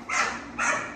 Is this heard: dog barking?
yes